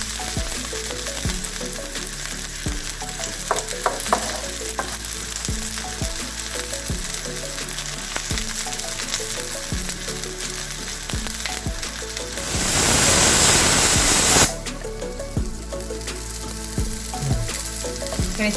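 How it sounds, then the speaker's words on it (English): Onions frying in a pan, a constant crackling sizzle that swells into a louder hissing burst for about two seconds before settling back. "Just fry it for a minute until the color has been changed for the onions."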